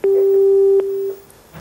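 A telephone busy tone sounds after a live call on a television phone-in drops, a clean steady beep pulsing briefly and then cutting off, close and alone.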